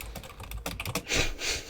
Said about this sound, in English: I'm just going to keep typing behind this.